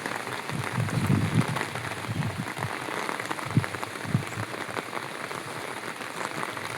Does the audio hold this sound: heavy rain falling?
yes